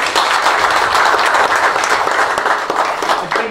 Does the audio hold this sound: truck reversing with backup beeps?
no